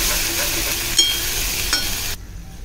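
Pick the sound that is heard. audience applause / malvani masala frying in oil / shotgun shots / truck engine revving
malvani masala frying in oil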